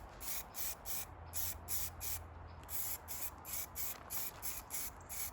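Aerosol rattle can spraying filler primer onto an alloy wheel from a Mk6 Fiesta ST150, a series of about a dozen short rhythmic hissing bursts, close but quiet, no talking.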